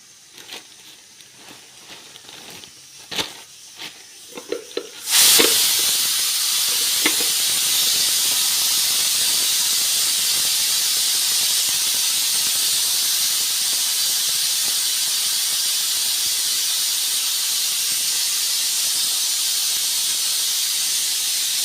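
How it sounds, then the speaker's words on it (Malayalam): A pressure cooker releases steam in a home kitchen. After a few seconds of quiet handling clicks, a loud, sustained hiss bursts in and continues unbroken to the end, with no talking. "കുക്കറിൻ്റെ സൗണ്ട് ഒന്ന് നിന്നോട്ടെ എന്ന് വിചാരിച്ചിട്ടോ ഞാൻ സംസാരിക്കാണ്ട്"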